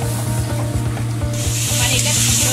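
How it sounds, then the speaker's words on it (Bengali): Spinach paste sizzles and fries steadily in a kadai, a dense continuous crackle with stirring scrapes throughout, close and loud with no voices. "এবার আমি পালংটা দিয়ে ভালো করে কড়াতে কষতে থাকবো।"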